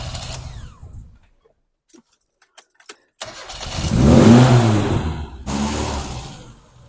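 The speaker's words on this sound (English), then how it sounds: "fire her up, please, Jodie. Yes. And then I'll zoom her into where she needs to be, roughly. Yeah. Are you And ready? You'll hear the RPMs go up." A classic car engine at a tuning session, with Minis, a Triumph Spitfire and a 1600 Ford Escort present, cranks after a quiet moment, then revs up loudly and holds a high roar before easing slightly.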